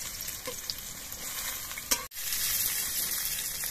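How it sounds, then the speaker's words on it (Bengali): Pointed gourd (potol) frying in oil in a pan, giving a steady close sizzle with a brief clatter as the pieces are turned midway. "তার জন্য আমি হালকা করে পটলগুলো ভেজে নিচ্ছি।"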